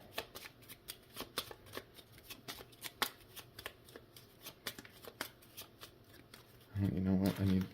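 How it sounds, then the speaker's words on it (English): Cards riffled by hand in a quick overhand shuffle, a series of crisp flicking taps close by, ending with a brief burst of louder rustling. "Give those an overhand shuffle."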